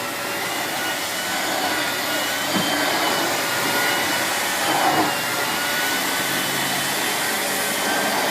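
A Miele S8730 HEPA cylinder vacuum cleaner runs with a steady, loud, broadband roar throughout, holding a constant pitch with only slight swells and no voices.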